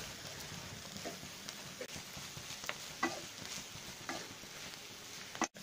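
Chicken kothu parotta is stir-fried in a pan, a soft continuous sizzle with scattered light scrapes and taps from the utensil, fairly faint and without talk.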